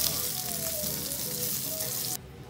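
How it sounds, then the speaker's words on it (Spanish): Chistorra sausage sizzles in a pan while paella is being made, a bright, steady crackling fry that cuts off abruptly near the end. "Ahora va la chistorra y hacemos lo mismo, la freímos"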